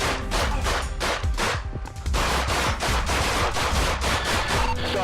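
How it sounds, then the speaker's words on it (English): A rapid, loud barrage of gunshots fired in quick succession during a street protest, shots overlapping into a sustained volley with a brief lull, close and harsh. "Copy, shots fired."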